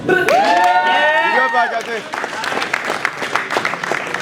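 Crowd at a rap battle breaking into applause and cheers after the judges' decision, with an MC's voice shouting over the start before steady clapping carries on.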